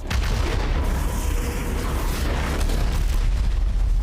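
Dense, continuous barrage of gunfire and explosions from the anime Kaiju No. 8, a loud, sustained rumbling roar of blasts and shots with no clear gaps.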